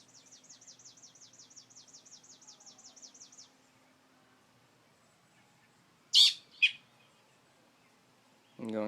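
A bird calls from a tree in a fast, regular series of high notes for about three seconds, then falls silent, and two sharp louder chirps and a low thump follow.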